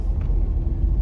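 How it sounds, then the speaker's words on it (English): A car with a worn strut and a bad front wheel bearing driving along, heard from inside as a continuous low rumbling drone with slight uneven thumps and no voices. "That's strut noise."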